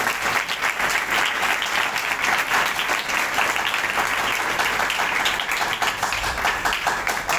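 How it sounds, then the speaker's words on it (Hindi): Loud, sustained applause from a church congregation fills the whole stretch, a dense wash of clapping from a large crowd that holds steady from start to finish with no voices on top. "आइए यीशु मसीह के लिए जोरदार तालियां"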